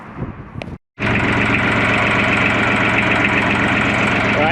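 A tractor with a PTO rotavator attached, on a UK smallholding, starts up after a brief dull clatter and a moment of silence, then settles into a loud, steady, close diesel idle that fills the rest of the clip.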